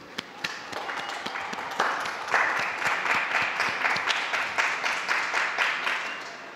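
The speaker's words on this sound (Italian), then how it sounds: "E un applauso a tutti i nonni" A large outdoor crowd of pilgrims applauds at the Pope's Sunday Angelus, opening with scattered claps and swelling into a dense, sustained ovation heard from a distance.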